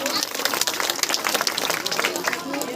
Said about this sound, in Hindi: जोरदार ताली हो जाओ